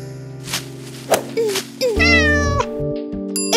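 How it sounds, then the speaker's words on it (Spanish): A cat meows several times, rising and falling cries with a loud drawn-out meow near the middle, mixed with background music and short thuds. "Tina, si un gato con ojos como los de tu papá sale de su jardín, no significa que tu padre haya reencarnado en un gato."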